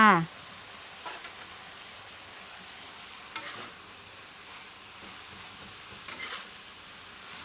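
Eggplant and pork stir-fry in a pan: a soft, steady sizzle with faint scraping stirs sounding at intervals, and a brief voice at the start.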